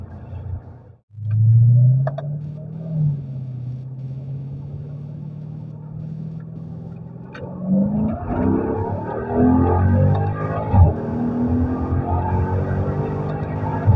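A Mercedes SLK55 AMG roadster's engine pulls hard under acceleration without a downshift, a deep rising rumble that swells and grows louder and rougher in the second half, close and continuous.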